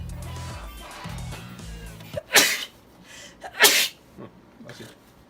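Two loud, close sneezes burst out one after another inside a room full of sawdust during a DIY Thor costume build, following a low hum, with no talking.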